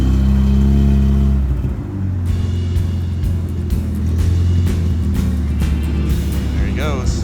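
A 1970 Datsun 510 idles loudly nearby, then its engine revs and pulls away, the steady drone fading as the car drives off down the road.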